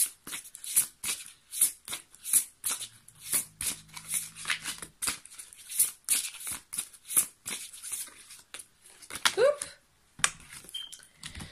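Playing cards shuffled and handled for a card reading make a quick series of crisp riffles and soft taps, close and fairly quiet, with brief pauses between bursts and a short low hum partway through.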